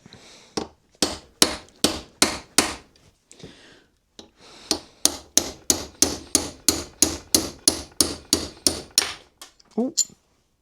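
A hammer strikes a punch to drive a rivet out of a part held in a vise while rebuilding a vintage Massey Ferguson levelling box, giving a steady series of sharp, loud metallic blows, about two per second, with a short pause partway.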